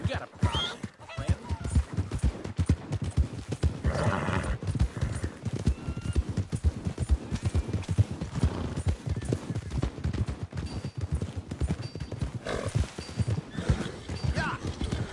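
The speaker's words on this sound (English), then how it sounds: "must cover some ground on a horse like that" Steady clip-clop of horse hooves at a trot, with a horse whinnying and voices talking over a busy game soundscape.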